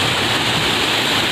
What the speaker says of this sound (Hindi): आज देख सकते हैं अब झरने में आ चुके हैं हम